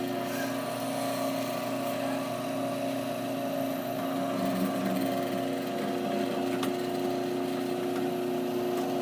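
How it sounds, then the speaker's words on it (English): A power drill whines steadily, its motor tone holding a constant pitch as it bores an axle hole into a wooden block for several seconds without pause. "we're going to drill the straight dominant front wheel hole"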